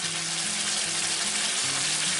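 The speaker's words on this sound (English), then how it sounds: "simply from frying the meat and then adding the tomato paste and deglazing now and then" Meat and tomato paste fry in a pan while being deglazed for a demi-glace brown sauce, a loud, dense, continuous sizzle heard close up, with no one speaking.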